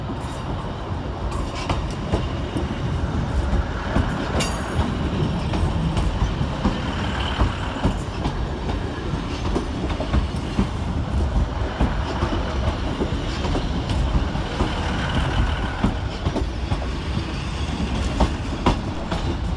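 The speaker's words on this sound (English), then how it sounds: "Out for departure is 1564510 and 156495 with the 1427 ScotRail service to Kilmarnock." A pair of ScotRail Class 156 diesel units depart Glasgow Central on a Kilmarnock service, with a steady loud rumble of diesel engines and wheels and a repeated clickety-clack over the rail joints, close and continuous.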